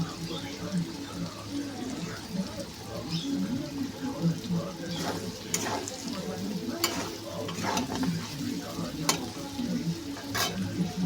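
Tomato, ginger and ground spices sauté in a pan for a vegetarian soybean dish, a steady sizzle under repeated scraping stirs and clacks of a spatula, with a voice talking intermittently over the cooking.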